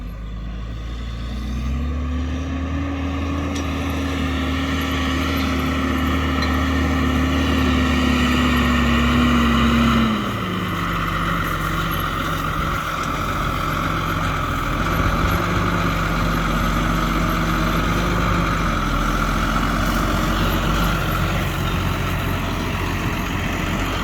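A freshly repaired vehicle engine starts and settles into a loud, steady idle, with a deep, even hum that shifts pitch slightly early on and then holds for the rest of the run.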